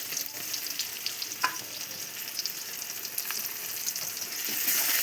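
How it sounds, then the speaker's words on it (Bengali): Katla fish masala fries in a pan with ground cumin, ginger, turmeric, pepper and salt, giving a continuous dense sizzle with a few faint stirring scrapes, close and steady, swelling slightly toward the end. "কষিয়ে নেব ভালো করে।"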